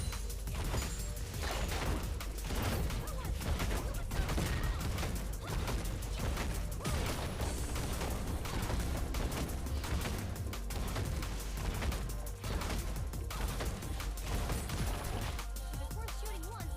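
Video game gunfire rattles continuously as rapid, clicking mechanical bursts, dense and steady under a busy background with a voice talking over it.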